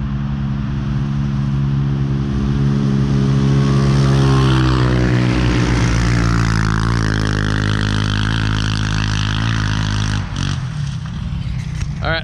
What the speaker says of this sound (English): I hear the drone of 570 motors.